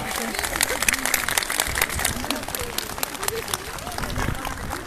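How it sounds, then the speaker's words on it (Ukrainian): A crowd applauds to welcome veterans at a public rally with the president in Drohobych, Ukraine: steady, fairly distant clapping runs through the whole stretch beneath a speaker's amplified voice. "Давайте оплесками привітаємо наших ветеранів ОПА."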